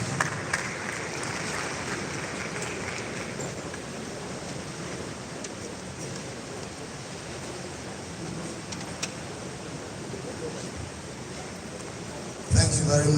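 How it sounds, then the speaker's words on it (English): An audience at a professional development session gives a steady, even round of applause to welcome a speaker, a soft wash of clapping that runs for several seconds. "Please, with a warm round of applause, please welcome Dr. Barrister Lawan Effiong"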